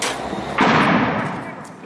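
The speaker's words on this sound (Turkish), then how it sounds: "Sessizliği patlama sesi böldü, büyük panik yaşandı." An explosion during border clashes near Ceylanpınar, across from Resulayn in Syria, cuts through steady background noise as a single sudden, loud blast with a long rumbling decay.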